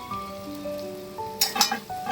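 Rice stirred in a hot frying pan, a low sizzle under faint background tones, then a few brisk scraping stirs toward the end.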